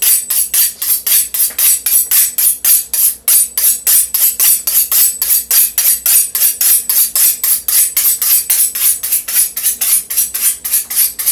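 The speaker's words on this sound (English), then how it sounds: "I'm sharpen my knife." Kitchen knife sharpened with rapid, rhythmic metallic strokes, a steady run of bright scraping rasps repeating about four times a second, close and loud throughout.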